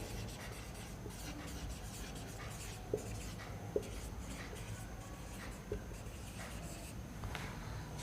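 Pen writing by hand on paper, a steady soft scratching and rubbing that runs throughout, with a few small taps, fairly quiet and close.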